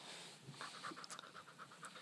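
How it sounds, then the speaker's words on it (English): A dog pants in quick, rhythmic bursts close to the microphone, soft and steady in a quiet room. "We can't control his panting."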